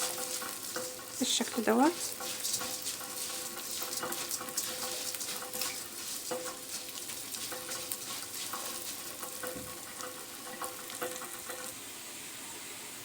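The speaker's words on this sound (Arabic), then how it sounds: "نبدأ بقى نحمر الشعرية مع البصلاية" Vermicelli and onion frying and being stirred in a pan, a steady sizzle with occasional scraping of the spoon, close and fairly quiet, with a few brief spoken words over it.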